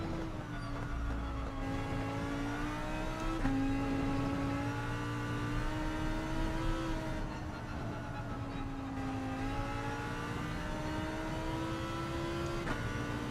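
Race car engines in Gran Turismo 7 hold a steady, close-up drone, pitch rising through the gears and dipping briefly at shifts, with faint whirring from other cars and no talk.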